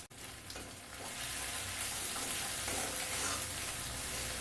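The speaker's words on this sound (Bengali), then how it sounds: "এবারে দিয়ে দেবো কুচনো রসুন।" Chopped garlic with turmeric and Kashmiri chilli powder frying in a pan for chili chicken, a steady close sizzle that swells after the first second and holds loud with faint stirring scrapes.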